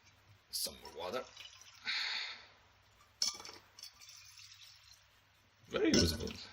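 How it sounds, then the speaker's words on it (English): Water is poured into the reservoir of a PC watercooling loop in a Corsair 750D case, arriving in several separate splashing bursts with quiet gaps between them. "So let's go with some more water."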